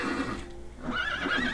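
A horse from the Mo' Creatures mod for Minecraft whinnies once in a short, clear neigh with a rising, wavering pitch, heard alone at moderate volume.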